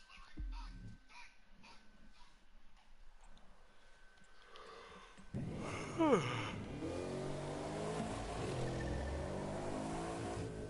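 A Bugatti Veyron engine in the racing game The Crew 2 revs up midway and holds a steady, rising drone, fairly faint, following quieter game sounds.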